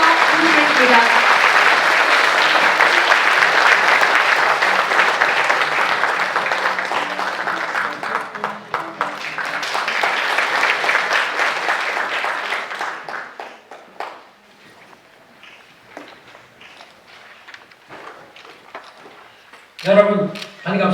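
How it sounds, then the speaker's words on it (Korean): Audience at the opening ceremony of the 2019 Saemaul International Forum applauds loudly to welcome a speaker, the clapping thinning out and fading, followed by quiet shuffling and a few faint sounds near the end. "반기문 제8대 유엔 사무총장님을 큰 박수로 모시겠습니다"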